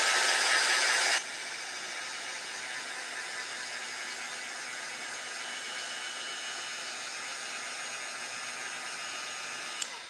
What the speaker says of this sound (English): I'm going to have to use the heat gun.